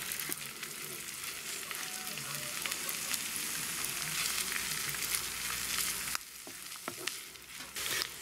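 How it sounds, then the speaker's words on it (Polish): Cauliflower mushrooms sizzle in melted butter in a pan with a steady hiss, broken by scraping stirs and light clinks near the end. "Smażymy tak jakieś 5 minut."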